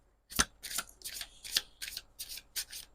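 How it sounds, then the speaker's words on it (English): Moonology oracle cards being shuffled in quick, crisp bursts, about eight riffling rustles in a row, close and clear with no talking. "let's get some Moonology Oracle cards as well"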